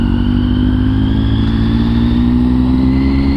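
Adeel's sport motorcycle, nicknamed Godzilla, runs loud and close, its engine droning steadily for the whole stretch with pitch creeping slightly upward as it revs.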